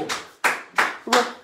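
A small group claps and cheers at close range, with bursts of applause coming in quick repeated waves.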